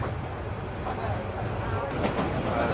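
A moving passenger train gives a steady, close, low rumble with faint rhythmic clatter, heard from inside a carriage, while people talk quietly.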